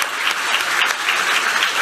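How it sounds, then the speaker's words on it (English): Conference audience giving a round of applause for the organizers, a dense, continuous clapping from a full room, steady and fairly loud throughout the short burst. "I feel like we should give another round of applause to the organizers."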